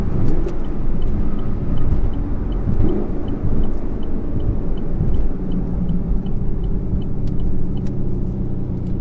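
Cabin of a Chevrolet Camaro SS 1LE with manual gearbox and magnetic ride suspension cruising a rough stretch of I-80, a loud continuous low road rumble and engine drone with faint rhythmic thumps from seams in the pavement.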